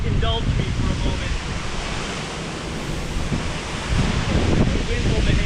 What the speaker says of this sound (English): The wind will behave.